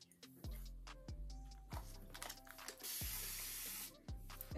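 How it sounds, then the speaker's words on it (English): A hand spray bottle misting a curly headband wig, about seven quick sharp pumps in a regular rhythm, each a short hiss with a soft trigger click, heard close up. "I pretty much sprayed this side, but what it does is loosen up the curls a bit."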